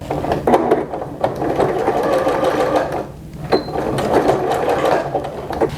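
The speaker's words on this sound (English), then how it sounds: "Now I'm going to zigzag the top of the skirt to the elastic while stretching it as I sew" A sewing machine runs in steady bursts of rapid zigzag stitching, sewing stretched elastic to the top of a skirt, with a brief pause midway before the motor picks up again.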